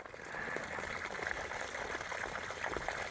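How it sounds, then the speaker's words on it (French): Steady, continuous trickle of running water from a natural garden fountain, close by and fairly loud, with a constant bubbling wash and no voices. "ça c'est le bruit de la fontaine naturelle"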